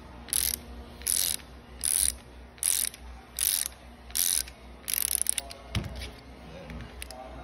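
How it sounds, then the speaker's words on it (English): A socket wrench ratchets a portable roller swaging tool in eight evenly spaced bursts of clicking, close and clear, then stops, leaving a faint clunk and low room noise. "And then I'm gonna tighten again a little bit more, keeping the socket wrench on this side,"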